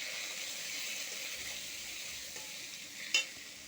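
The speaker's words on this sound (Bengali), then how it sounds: "হলুদ, দিয়ে এটাকে একটু নাড়াচাড়া করবো" Potatoes and pointed gourd with turmeric are stirred in a hot pan, a soft, steady sizzle with light scraping and one short clink of the utensil near the end.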